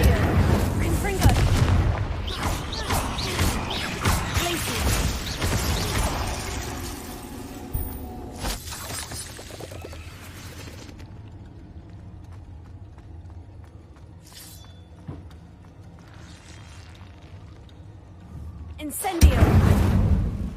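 Spell explosions in Hogwarts Legacy, a burst of loud booming blasts and crackles at first that thin into quieter rumbles, then a sharp heavy bang near the end, with a voice calling out over them.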